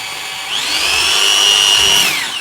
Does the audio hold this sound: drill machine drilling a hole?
yes